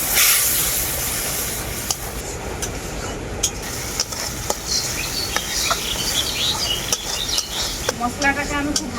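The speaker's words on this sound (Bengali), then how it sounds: "এরপর মশলাটাকে আমি খুব ভালো করে কষিয়ে নেবো" Mustard paste with ground cumin, turmeric and red chilli powder fries in a pan, a steady close hiss and sizzle broken by scattered spatula scrapes and taps.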